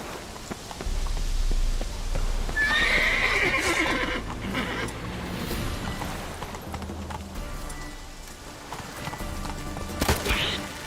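A horse in The Witcher 3 video game neighs loudly near the start, then its hooves clip-clop steadily beneath ambient game sound, with a second brief whinny close to the end.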